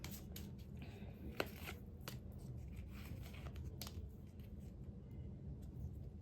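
Playing cards are handled and shuffled in a run of soft riffling, flicking and sliding, with a few sharp snaps over a steady low room hum. No one speaks.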